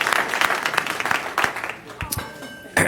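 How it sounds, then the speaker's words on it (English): A city council meeting audience claps together in a short, dense burst of applause that fades after about two seconds, leaving a voice and a quieter room. "All right, let's give them a round of"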